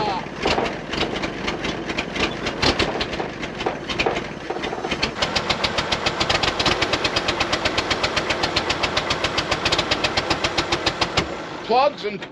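A 1945 GMC CCKW 6x6 army truck engine cranks, then catches and runs with a rough, rapid, knocking rhythm for several seconds, loud and close, before cutting out near the end.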